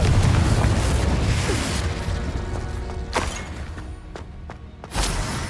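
Confringo blasting spell detonating in Hogwarts Legacy, a rumbling explosive boom followed by several sharp crashing impacts and bursts over dense game sound.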